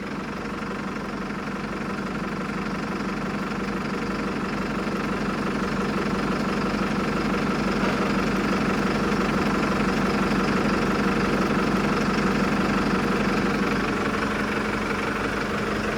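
A tractor engine idles steadily nearby, a low, even knocking rumble that holds at the same loudness throughout, with no voices.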